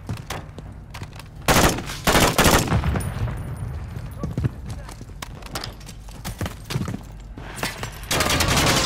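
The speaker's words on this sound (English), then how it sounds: "We're taking fire." Rapid gunfire bursts crackle through a Call of Duty Modern Warfare 3 firefight, loud repeated volleys over a busy battlefield with radio voices calling out.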